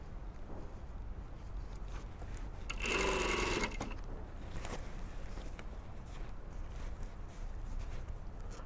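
A sewing machine stitches a panel bustier with boning in a short, loud burst of about a second, with quiet handling and faint rustling before and after.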